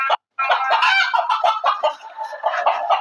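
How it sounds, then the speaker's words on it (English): Chickens on a ranch cluck and squawk almost without a break, loud and close, with several birds calling over one another after a brief gap at the start. "catch me old chicken over here"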